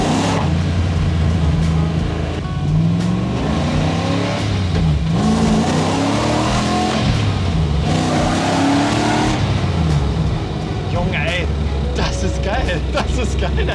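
A drift car engine revs and roars steadily throughout at Hockenheimring, loud and close, with people talking over it.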